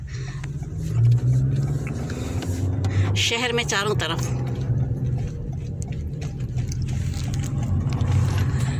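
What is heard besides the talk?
busy road traffic passing in the city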